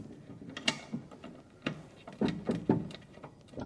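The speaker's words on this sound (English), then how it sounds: "inside there's actually a little round bolt, really cute, which just needs to be unscrewed" Small metallic clicks and ratcheting scrapes as a little round bolt is unscrewed from a vintage drawer handle, several close, quiet irregular taps and turns in a quiet room.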